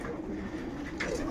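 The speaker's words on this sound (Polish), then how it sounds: "pokarmiłem tu gołąbki." Breeding pigeons coo softly and continuously in a loft after feeding, a low, throaty murmur close by, with a slightly louder coo toward the end.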